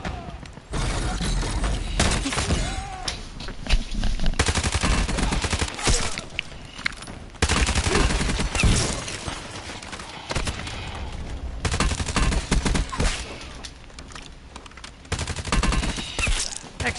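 Gunfire in the Warzone video game comes in repeated loud bursts of rapid shots, broken by short pauses, close and dense across the whole stretch.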